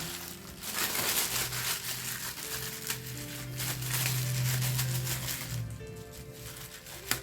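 Thin plastic bag crinkling and rustling as it is wrapped around and tucked over a shaped craft piece, close and continuous with a few louder scrunches, no talking.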